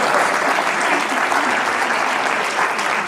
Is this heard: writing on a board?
no